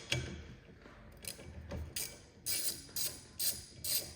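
A wrench works a 15 mm nut while a Hellcat supercharger is being removed: quiet ratcheting clicks, irregular at first, then settling into a run of evenly spaced bursts close by, with no speech.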